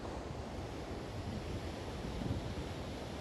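Fast, dangerous water rushing hard enough to sweep a person away, a steady, loud, unbroken roar that fills the whole stretch with no voices over it.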